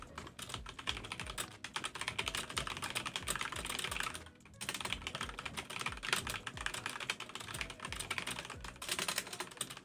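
Computer keyboard keys are hit rapidly and continuously during a Minecraft session, a dense, steady clatter of fast typing with one brief pause midway.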